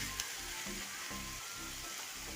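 Onions sauté in a pan for pepper chicken with a soft, continuous sizzle and a faint stirring rhythm, quiet and close.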